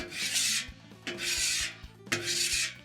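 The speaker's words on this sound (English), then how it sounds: "we can go ahead and scrape this down one more time" Three long scraping strokes of a metal scraper across an electric griddle, each a harsh raspy rub with a sharp start, evenly spaced and close, with no talk.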